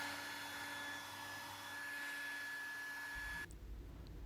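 A hair dryer blows steadily at close range to dry a watercolor winter landscape painting, its whine holding level before the motor tone shifts near the end, with no talk.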